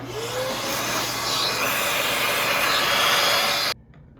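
A small vacuum runs with a steady whining roar while cleaning out the stripped transmission threads of an EVO 8 during a Time-Sert repair, close and continuous before cutting off abruptly near the end.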